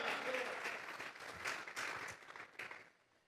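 A church congregation claps hands in praise during a Spanish-language service, a moderate crowd patter with several sharper individual claps, fading out toward the end, heard at a distance and fairly quiet.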